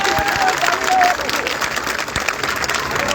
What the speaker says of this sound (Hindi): एक बार अपने लिए तालियां बजाओ सारे।